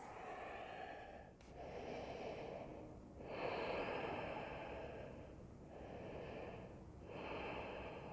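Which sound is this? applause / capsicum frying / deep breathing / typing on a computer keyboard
deep breathing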